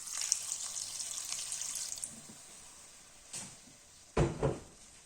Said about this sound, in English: I'm gonna add some water and let it cook.